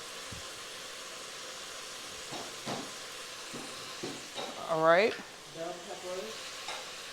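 Chopped onions, celery and garlic sizzle and hiss in a cooking pot during a cooking class, a steady low fry broken by scraping stirs and a brief spoken voice.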